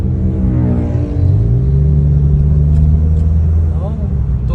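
A Honda Brio gen 2 automatic with a CVT and a Datatec Daytona Pro throttle controller revs up, its engine rumble rising steadily in pitch and holding loud and close inside the cabin, with brief talk over it.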